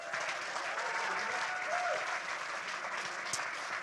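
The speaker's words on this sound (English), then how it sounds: "Give them another round of applause." A live music audience gives a steady round of applause after a performance, an even wash of clapping hands heard at moderate distance with a brief voice in the middle.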